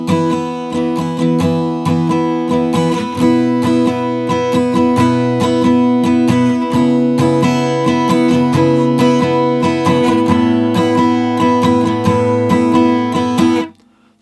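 Strummed and picked acoustic guitar plays the verse of a song, starting on an E5-like chord, a steady rhythmic passage, bright and close, with repeated chord strikes for several seconds before ringing off abruptly at the end.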